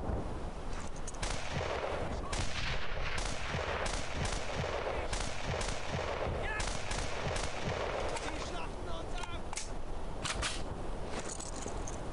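Dense, continuous gunfire in Brothers in Arms: Earned in Blood, with rapid rifle and machine-gun bursts cracking nearby throughout, amid loud battle noise and faint voices.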